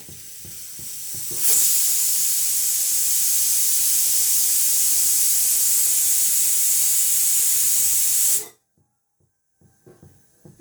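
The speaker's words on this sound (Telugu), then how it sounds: "దీన్ని ఫ్రై చేయడం స్టార్ట్ చేస్తున్నా" Radish pieces fry in a tri-ply steel pan with a loud, steady sizzling hiss that starts abruptly, holds for about seven seconds, then cuts off to near silence with a few faint clatters.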